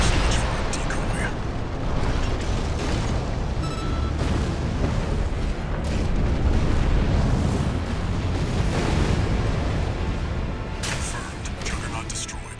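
A Juggernaut war machine is destroyed in Armored Core VI, a sustained roaring explosion with heavy low rumble and crackling bursts lasting many seconds, loud and dense throughout, with voices talking over it.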